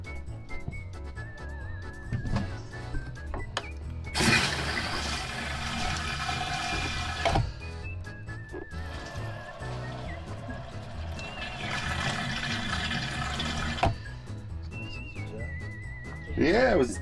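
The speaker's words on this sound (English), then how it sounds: "you want to turn the water on?" Water rushes into a newly replaced RV toilet in bursts, a loud hissing flow that starts and stops several times, with a whistling tone and people talking nearby.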